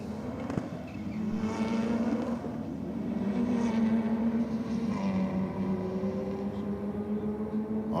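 Subaru WRX drag racing down the Rocket Lane: a loud turbocharged engine drones steadily, rising in pitch as the car accelerates down the strip, with broad roaring noise throughout.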